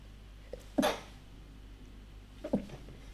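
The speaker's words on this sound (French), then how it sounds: "Éternuement, ça ne prévient pas, je suis désolée." A woman's sneeze, short and close, with a quieter burst a moment later against a faint steady hum.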